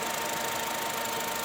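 A 2011 Honda Brio i-VTEC petrol engine runs at a steady idle, heard up close as an even, continuous hum with no voices.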